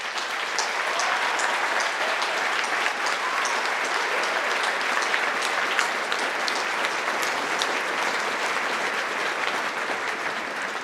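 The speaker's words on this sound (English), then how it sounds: "one more round of applause for the colleagues" Sustained applause from a large audience at a graduation ceremony fills the space, a dense, even patter of clapping that carries on for about ten seconds without speech.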